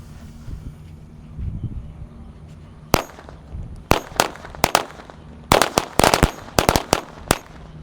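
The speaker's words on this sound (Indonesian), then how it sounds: "XXXL triple X. Kita nyalakan." After a quiet fizzing start, XXXL matchstick firecrackers burst inside a water gallon in a rapid string of sharp, loud cracks, about a dozen irregular bangs crowding together near the end.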